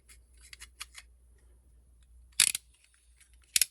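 Scissors snip through crochet yarn in two quick, crisp cuts close up, the first a short double snip and the second a single clip, with quiet handling rustle between them.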